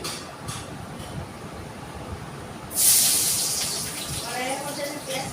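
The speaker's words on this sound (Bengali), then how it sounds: "কড়াইয়ের মধ্যে আমি পেঁয়াজটা দিয়ে দিলাম" Chopped onion and green chillies go into hot oil in a wok and set off a sudden loud sizzle that hisses on steadily at close range. A voice is heard before it.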